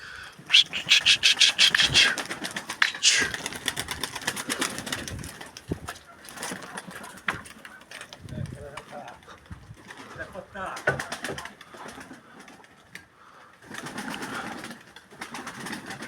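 Pigeons coo and flutter nearby amid scattered clattering and rustling, with people talking intermittently in the background.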